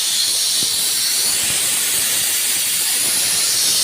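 A pressure cooker holding chicken biryani with rice vents steam in a loud, continuous, close hiss that stays steady from start to finish, with no voices.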